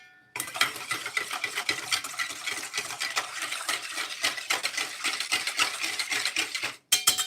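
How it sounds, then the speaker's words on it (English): Wet ingredients for vegan cornbread being whisked in a bowl, a steady rapid scraping and clinking of utensil against the bowl that runs without pause, close and clear with no talk, ending in a brief stop and a couple of final strokes. "So I mix all the wet together."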